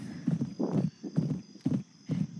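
A stolen horse gallops in the Roblox game Westbound, its hoofbeats landing in steady, close clip-clop bursts with brief gaps, loud and alone.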